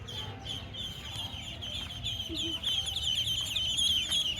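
Native village chickens in rural Bangladesh cluck in a continuous stream of repeated calls at moderate distance, with a soft outdoor background.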